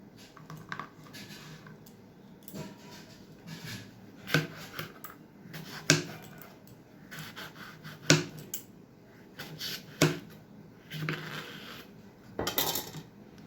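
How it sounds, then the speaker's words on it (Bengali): A knife cuts pointed gourd (potol) on a board while a recipe is prepared, giving irregular, close, crisp taps and clicks with quiet handling noise between them and no talking. "এই দেখুন আমি ঠিক এরকমভাবে পটলগুলোকে কেটে নিচ্ছি"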